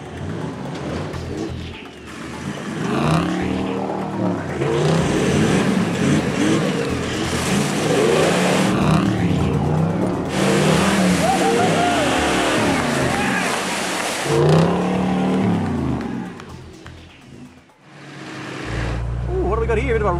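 Chipped and tuned Toyota 76 series 4WD diesel engine revving hard on a rocky climb, loud and close with rising and falling roars, surging bursts and rattling, while a voice is heard over it.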